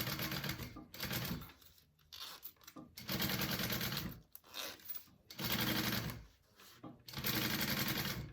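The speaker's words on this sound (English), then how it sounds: "I'm just gonna top stitch my pocket real quick." Sewing machine top stitching a fabric bag pocket, running in several bursts of rapid mechanical stitching separated by short pauses, close and fairly loud.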